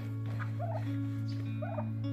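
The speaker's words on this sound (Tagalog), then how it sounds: "Ito yung pabo natin guys" A turkey on a farm in the Philippines gobbles twice in quick, warbling bursts over a steady low mechanical hum, fairly close.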